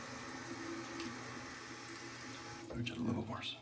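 Water runs steadily from a tap at a sink during a wet shave, a continuous moderate hiss with a splashy change near the end as the flow is disturbed.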